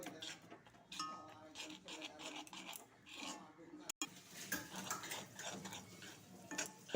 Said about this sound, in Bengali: ঢেলে ভালো করে নাড়াচাড়া করব